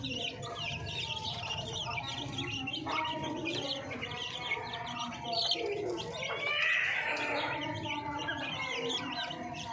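Young chicks peep steadily while feeding, less than a month old, a busy chorus of high chirps with some cooing mixed in, continuous and fairly close, and someone speaking briefly over them.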